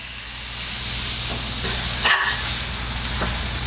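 A smashburger patty sizzles on a griddle under a tortilla, giving a loud, steady hiss of steam and spattering fat with a brief crackling flare near the middle.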